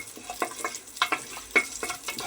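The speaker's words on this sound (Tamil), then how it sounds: "கடுகு வெடித்தவுடன்" Mustard seeds spluttering and popping in hot oil during tempering for a home-cooked dish, a close run of sharp irregular crackles and pops over a soft continuous sizzle, with no talking.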